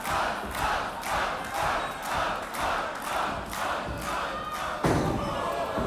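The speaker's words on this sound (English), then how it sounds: "A sold-out crowd here in the Thornbury Theatre at high stakes" A sold-out crowd at a wrestling show in the Thornbury Theatre chants in loud rhythmic waves that pulse roughly every second, with a sharp thump near the end.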